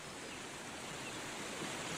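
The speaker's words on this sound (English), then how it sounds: "let me see if I can't find some waterfall foley" Steady broadband rush of falling water from a waterfall sound effect, playing as a continuous, even background with no voices.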